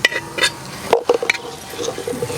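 Coriander powder stirred into Kerala-style chicken mappas frying in a pan: close scraping spoon strokes over a steady sizzle, with a few clinks against the pan.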